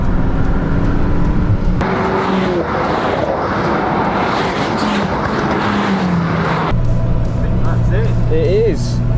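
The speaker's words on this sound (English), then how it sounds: "A Mk8 Golf R on track on Silverstone." Volkswagen Mk8 Golf R driving on the Silverstone circuit, a steady loud engine drone with shifting pitch and gear changes throughout, heard from inside the car with talk over it.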